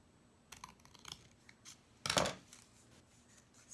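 Scissors cutting through a paper bag, with a few quiet snips followed by one louder, longer crunching cut close by, in an otherwise quiet room.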